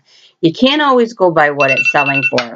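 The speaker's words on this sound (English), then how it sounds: "Oops, that's my phone." A phone rings with a steady electronic tone partway through, sounding beneath continuous close talking during a vintage thrift haul.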